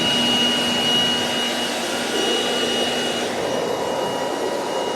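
A powerful blower roars steadily and loudly at close range while clearing bees off the top of a beehive during a September honey harvest, with a constant whine and no pauses.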